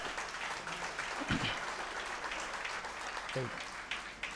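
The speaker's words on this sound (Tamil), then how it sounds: "ஐயாவுக்கு ஒரு பலத்த கைத்தட்டு கொடுத்து அவரை கண்ணியமாக அமுச்சு வைங்க" Audience applause at a Tamil stage event honouring an elderly guest, dense steady clapping throughout with brief voices breaking through over it.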